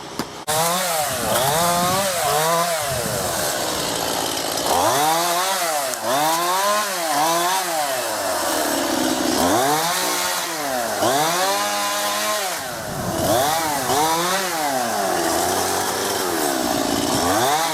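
A chainsaw cuts Leylandii logs, its engine revving up and down in repeated rising and falling surges as the chain bites into the wood. It runs loud and close for the whole stretch with no voices.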